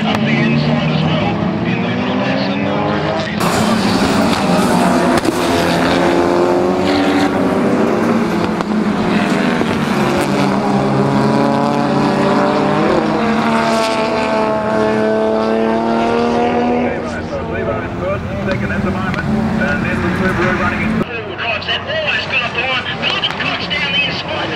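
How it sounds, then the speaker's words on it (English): Race cars including a red Mitsubishi Evo launch off the start at Baskerville in a 2007 Sports GT race, engines roaring loud and continuous with rising revs, while a commentator talks over them. "the former driver of Les Walton in the red Mitsubishi Evo gets a brilliant start shooting up the inside"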